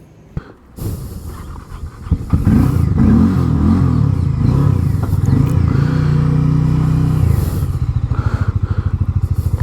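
A Harley-Davidson X440 motorcycle fires up and pulls away, a loud close engine rumble rising into steady revving, then settling into a pulsing idle-like throb near the end, with no speech.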